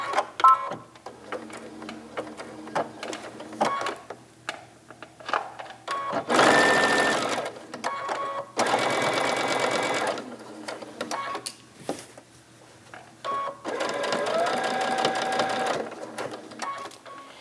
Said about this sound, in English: stitch across to the mark you have down here and backstitch a couple of stitches and stop